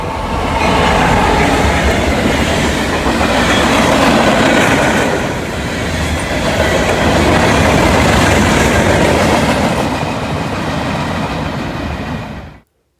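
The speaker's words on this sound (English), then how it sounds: "we got jump scared by Norfolk Southern B08, the local, with two glorious GP60s" A Norfolk Southern local freight led by two GP60 locomotives rumbles past close by, loud and sustained, with rolling wheel noise and clatter lasting until it cuts off at the end.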